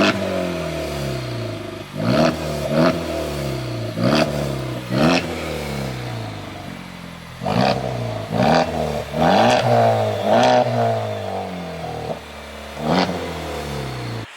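Honda Civic Type R FK2 with a resonator-delete centre B pipe exhaust, revved repeatedly: a series of sharp blips rising and falling, some short and some held longer, close and loud with no talk.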